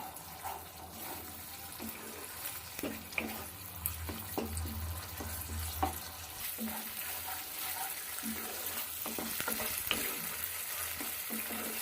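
Spice masala for a Bengali tilapia curry frying and being stirred in a pan, with steady sizzling and repeated scraping strokes of a spoon at close range, no talk.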